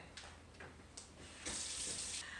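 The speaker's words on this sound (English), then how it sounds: "I'm going to wash the clams off my hands, and then we'll get cooking" Tap water running into a kitchen sink while clams are washed off hands, a steady hiss that swells louder midway and continues close by with no talking.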